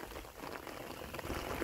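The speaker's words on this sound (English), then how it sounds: "Catch basin's doing its job, picking up the water coming from there, and routing it away." Rainwater gushes and splashes from the outlet of a French drain catch basin in a yard, a continuous burbling pour that is fairly close and has no talking over it.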